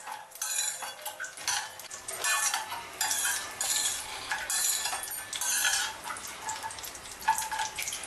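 Dry fruits fry in a pan over a medium flame, heard as a light crackling sizzle broken by repeated scraping and clinking of a utensil stirring against the metal, close and busy.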